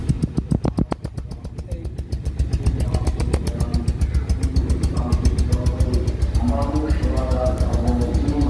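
Motorcycle engine idling smoothly up close, a loud, even rapid thump that settles into a steady drone, with a voice talking over it.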